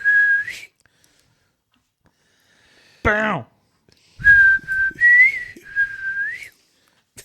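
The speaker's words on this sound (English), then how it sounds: "we're just sitting there whistling." People whistling nearby in clear, sustained tones: one short rising whistle, a bouncy warbling phrase, then a longer stretch of steady notes with rising ends, with a few quiet words spoken in between.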